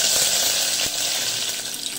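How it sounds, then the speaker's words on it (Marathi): Curry leaves hit hot oil in a cooking pot, giving a steady, loud, bright sizzling hiss that fades slightly over two seconds. "तेल तापलं आहे आपलं. मी कढीपत्त्याची पानं घालते."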